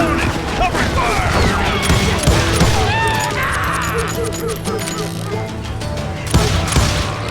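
In the Western shooter Call of Juarez Gunslinger, a gunfight rattles with bursts of shots and crashing impacts while voices shout over the noise.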